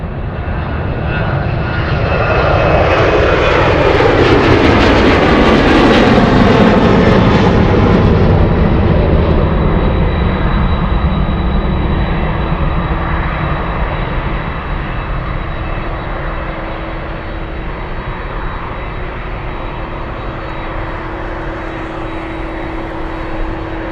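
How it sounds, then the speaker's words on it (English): A jet airliner taxis toward spotters at Anchorage airport, crossing runway 33 on taxiway Tango; a loud, close engine whine and roar swells as it approaches, then settles into a steady hum with a thin high tone, no voices. "This one will cross runway 33 on taxiway Tango, headed directly right at us"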